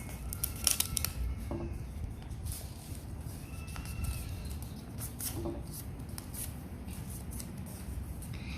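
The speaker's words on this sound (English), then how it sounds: "Fold it to the line like this." Paper folded by hand for an origami whale gives soft close crinkles and creases, with a few sharper rustles and scrapes over a steady low background.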